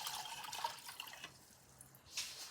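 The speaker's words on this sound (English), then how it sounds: "we're going to take our water and we're going to pour it into our" Water poured into a pan for pickling Japanese knotweed, a faint, steady trickle and splash with a few drips, quiet and alone.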